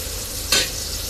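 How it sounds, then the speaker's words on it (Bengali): Shrimp fry with onions in a hot pan, a continuous loud sizzle with a brief sharp stir or scrape midway. "এখন আমি চিংড়ি মাছগুলো দিয়ে দিব একটু ভাজার জন্য পেঁয়াজের সাথে"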